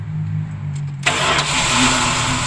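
A Dodge motorhome's 360 engine cranks over a low, steady rumble, then catches with a sudden loud burst and keeps running with a rough, noisy roar.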